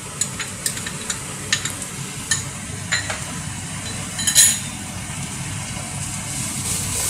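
Finely chopped capsicum being stir-fried in a pan for Kerala-style fried rice, a steady soft sizzle with scattered light clinks and scrapes of a spoon stirring against the pan, no voices.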